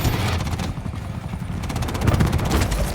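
Helicopter called in during a Call of Duty Black Ops 7 multiplayer match, its steady rotor chop layered with game gunfire and effects at fairly loud, constant level throughout.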